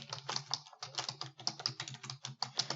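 Rapid, steady typing on a computer keyboard while entering concrete work items into an Excel spreadsheet, with close, quiet clicky keystrokes and no talk.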